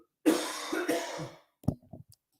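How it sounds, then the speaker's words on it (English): A single harsh, close cough with a raspy throat-clearing tail, then a quieter shorter cough after a brief silence. "Did y'all hear that cough?"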